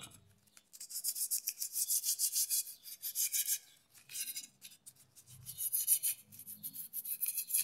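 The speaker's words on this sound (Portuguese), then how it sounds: "E agora, vamos estar tá lixando aqui a peça para nós ver como é que vai ficar" Steady rasping strokes of fine sandpaper rubbing a plaster piece, repeated in bursts with brief pauses, close and fairly quiet.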